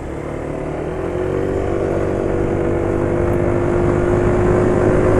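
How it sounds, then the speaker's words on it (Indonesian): A Yamaha motorcycle engine with a broken crankcase idling close by with a rough, uneven rumble and a steady whine that rises slightly, no voices. "Suara mesinnya jadi kasar nemen."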